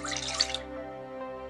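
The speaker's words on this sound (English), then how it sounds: "we're going to mix our liquid ingredients together. First, 1 cup of vegetable broth" Vegetable broth splashes briefly into a bowl of liquid ingredients, a short close trickling pour that stops after about half a second, leaving a faint steady background hum.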